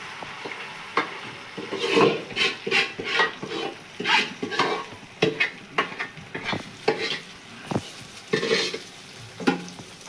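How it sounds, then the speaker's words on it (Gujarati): Mustard seeds, cumin, asafoetida, white sesame and curry leaves sizzle and crackle in hot oil in a large pan as a tempering for handvo, with repeated bursts of spitting and the clink of a spoon stirring close by. "તો એ રીતે જ આપણે એકનો વઘાર કર્યો એમ જ બીજો વઘાર પણ કરશું"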